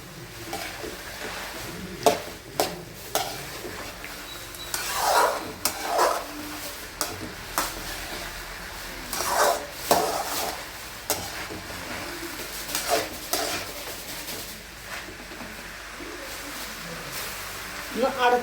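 A spoon scrapes and stirs avarakka and pumpkin thoran in a pan, giving soft intermittent scraping strokes and a light sizzle. A voice talks over it.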